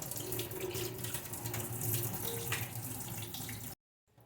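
Water runs steadily from a tap over grated yam being rinsed, for several seconds, a continuous close splashing rush that cuts off abruptly at the end.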